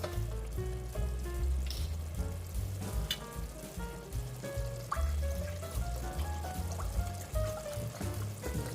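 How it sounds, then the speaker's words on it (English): Chicken broth poured into a hot pan of sausage and rice, giving a steady sizzling, bubbling liquid sound that runs unbroken for several seconds with no talking. "I'm gonna put 1 cup of chicken broth."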